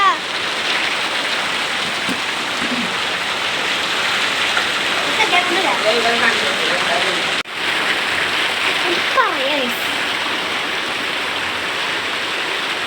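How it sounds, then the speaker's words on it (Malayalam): Heavy rain falls in a steady, dense roar that continues throughout, with only a momentary dip partway through. "മീൻ പിടിക്കാൻ പോയപ്പോഴേക്കും മഴ വന്നു."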